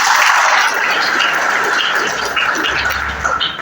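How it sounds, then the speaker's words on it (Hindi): A church congregation applauds loudly at a Christmas service, a dense, sustained burst of clapping that tapers slightly toward the end. "एक जोरदार ताली बजाएंगे।"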